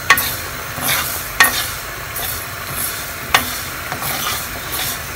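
Fish frying with small eggplants in a pan, a loud continuous sizzle with periodic scraping strokes of a stirring spatula roughly every second or two.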